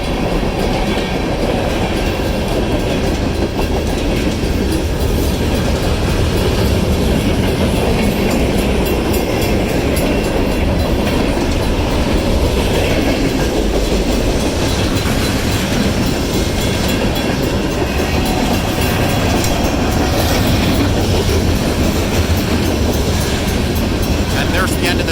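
A Union Pacific train passes through Gilbert, Arizona at Gilbert Road, a loud, close, continuous rumble of rolling railcars with clattering wheels that holds steady for the whole stretch.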